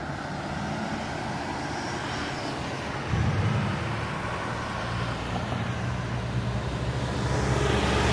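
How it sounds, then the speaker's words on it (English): A new car, for Kevin in Florida, rolls in amid a steady outdoor rumble of engine and road noise, growing slightly louder and closer partway through, with no talk over it. "Here comes your new car, Kevin."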